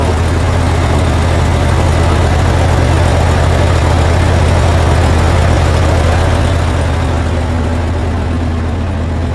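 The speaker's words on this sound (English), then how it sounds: "It's really loud because that is the motor." A Zamboni ice resurfacer's motor runs loudly and close, a steady heavy rumbling drone with a broad mechanical roar that holds without change, no talking over it.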